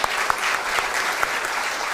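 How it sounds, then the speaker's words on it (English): Dense, steady applause from a school quiz audience cheering both teams, a few sharper claps standing out near the front of the even wash of hands. "A round of applause to both teams."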